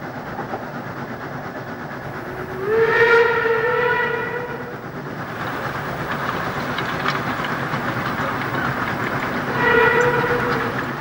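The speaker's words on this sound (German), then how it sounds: "wenn ein Dampfzug langsam am Betrachter vorbeizieht" A steam train with a class 086 locomotive rolls slowly past near Burgthann, a steady rumble of wagons with two bright whistle blasts rising above it, the first around three seconds in and another near the end.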